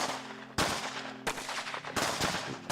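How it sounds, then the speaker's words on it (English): Gunfire rattles in loud bursts, three or four sharp volleys spaced roughly two-thirds of a second apart over a low steady hum, with no talking. "Oh dear, someone is shooting."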